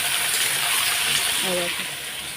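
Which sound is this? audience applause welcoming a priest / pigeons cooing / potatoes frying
potatoes frying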